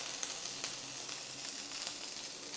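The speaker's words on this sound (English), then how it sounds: "we're only going to brown the top side of the salmon" Salmon fillet seasoned with salt and pepper searing top side down in olive oil over medium-high heat, a steady close sizzle and crackle with no voices.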